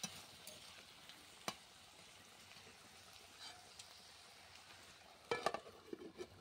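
Flat beans fry quietly in a pan, giving a faint, steady sizzle with occasional soft clicks and a cluster of louder scraping stirs near the end, with no voices.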